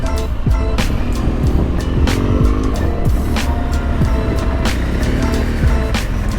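Daytime city traffic in Khartoum rumbles loud and close, with engines, passing vehicles and scattered sharp bursts running continuously throughout.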